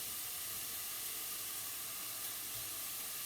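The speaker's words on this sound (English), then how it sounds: "our bacon is sizzling" Bacon sizzles in a pan while macaroni cheese is being made, giving a continuous, even, crackling hiss at moderate volume.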